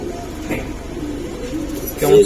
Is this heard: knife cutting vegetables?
no